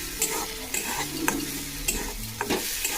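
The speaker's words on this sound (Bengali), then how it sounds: "এই সময় নাড়তে থাকতে হবে" Masala egg bhurji is stirred in a hot pan: continuous scraping of a spatula against the pan over a close, steady sizzle.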